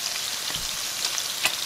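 Store-bought hamburger buns toast in hot oil for a pastrami cheeseburger, giving a steady close sizzle with faint crackles and one sharper pop near the end, no talking.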